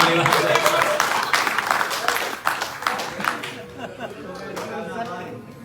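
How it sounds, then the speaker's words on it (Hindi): A burst of audience clapping at an Indian wedding, with scattered chatter, the claps thinning out and fading toward the end while voices talk underneath. "इसके लिए 2 बार तालियां बजाएंगे।"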